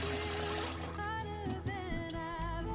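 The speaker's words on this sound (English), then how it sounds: "So I wash my rice with cold water after 20 or 15 minutes." Running cold water splashes and gurgles steadily, like a tap filling a pot, with soft sloshing and clinking as rice grains are swirled and rinsed.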